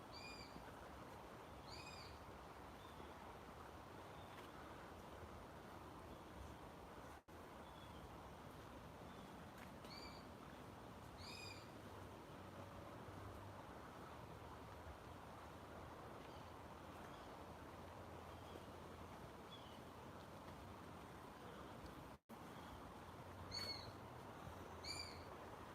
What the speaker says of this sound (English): Sounds like a baby bird of prey